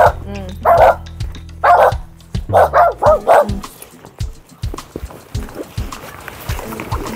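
A dog barks repeatedly nearby in short loud bursts, some in quick clusters, with fainter scraping and background noise after.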